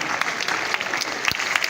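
A student union audience at a University of Ilorin empowerment programme applauds the student union president, giving a short burst of dense, steady clapping from many hands.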